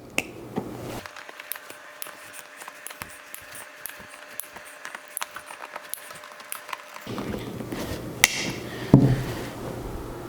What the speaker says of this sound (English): So we're going to use our bolt cutters, and look how easy that cuts.